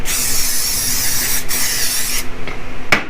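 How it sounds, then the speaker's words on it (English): Cooking spray hissing onto a casserole pan in several close bursts: one long spray, then a few short sharp puffs. "time to grease the pan"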